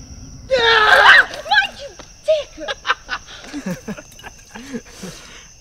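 A woman's loud, shrill scream, then a string of short, quieter vocal yelps and gasps trailing off.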